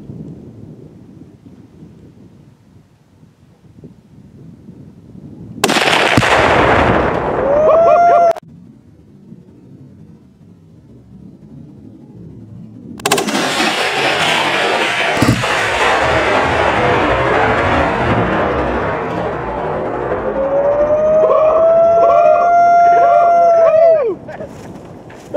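Tannerite charge blowing up a washing machine outdoors, a sudden massive blast followed by a long rolling thunder-like rumble that fades slowly, preceded by another burst of sound and quiet waiting.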